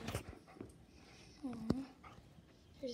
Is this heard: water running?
no